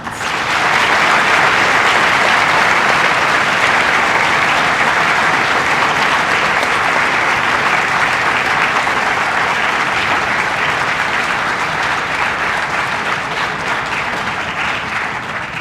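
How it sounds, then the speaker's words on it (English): Sustained, dense applause fills a school assembly hall for Marine veterans at a Veterans Day event, with many hands clapping loudly and steadily throughout. "Please join us in a round of applause for our Marine veterans."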